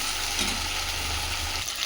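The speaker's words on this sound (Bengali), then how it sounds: "মশলাটা দিয়েও এটা ভালো করে কষিয়ে নিচ্ছি" Spice paste for a Bengali fish curry (shankar fish kosha) fries in a pan with a continuous, dense sizzle, close and even, with a low hum underneath and no talking.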